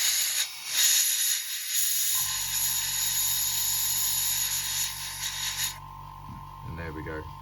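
An airbrush spraying thin, wash-like paint onto a Tamiya F4U-1D Corsair model gives a loud steady hiss for several seconds, then cuts off, leaving a lower hum and a brief voice.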